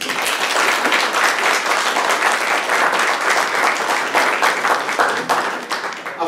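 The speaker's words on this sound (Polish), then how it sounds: "Jeszcze raz wielkie brawa!" Sustained, dense applause from an audience at a Polish pro-life rally, loud and steady throughout with no speech over it.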